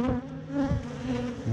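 A dense, steady buzzing of many honey bees close by around a hive, a continuous droning hum with slight swells and no voices.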